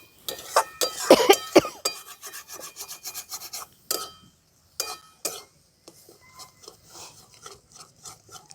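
Coriander leaf pickle being mixed with sugar and salt, close scraping and rubbing strokes in quick uneven bursts with pauses, loudest near the start and fading to softer intermittent scrapes.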